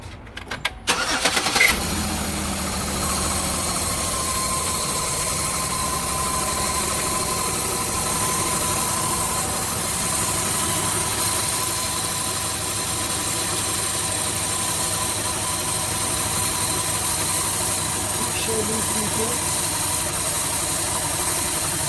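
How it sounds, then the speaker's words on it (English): A 2005-09 Chevy Equinox engine cranks and catches, then settles into a steady, loud, close idle that hums on evenly with no talk. "So, start it back up again and check again for leaks."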